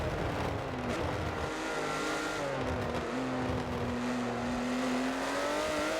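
Onboard engine of a Porsche GT3 race car in a racing video game, a loud continuous roar that rises and falls with gear changes and throttle, with faint tire noise underneath.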